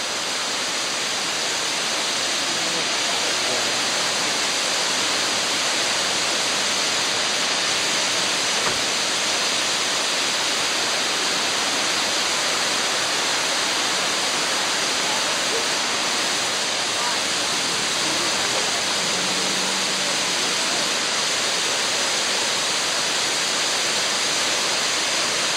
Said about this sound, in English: You see there's a waterfall up there. And there's a really big one right there.